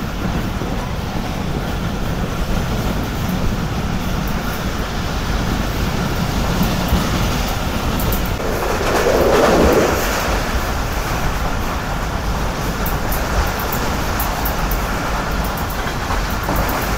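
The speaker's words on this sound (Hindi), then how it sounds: "तो ये एंटर हो चुकी है हमारी ट्रेन शेखुपुरा शहर में।" Karakoram Express train running steadily as it approaches Sheikhupura, a constant broadband rumble of rolling wheels and carriage noise with a brief louder swell midway, no speech.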